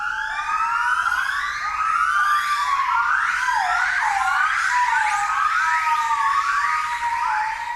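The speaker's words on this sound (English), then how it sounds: "Even though these family groups only consist of up to 8 gibbons, the sound can be deafening." A family group of gibbons calls loudly, with rapid rising and falling whooping notes overlapping in a dense, continuous chorus that never pauses.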